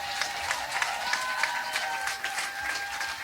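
A concert audience applauds steadily through a live show, with dense, continuous clapping, a few sharper bursts, and faint sustained tones lingering underneath.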